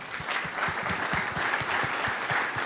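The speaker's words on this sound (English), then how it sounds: "So a big round of applause to all of you." Crowd applause closes a DevOps Enterprise conference, a dense, loud and even burst of clapping from a large audience with individual claps punching through the steady roar.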